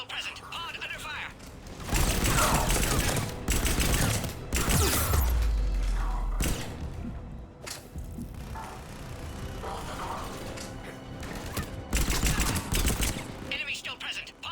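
Mass Effect 3 firefight at the Sur'kesh checkpoint: loud bursts of automatic fire in the game, the heaviest in the first half and again near the end, with voices talking over the shooting.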